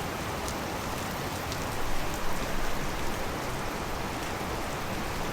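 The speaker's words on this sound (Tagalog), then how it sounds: "Sa Pilipinas, walang tigil ang ulan." Heavy typhoon rain in the Philippines pours steadily, a dense unbroken hiss with scattered drops pattering close by, swelling slightly midway; no voices.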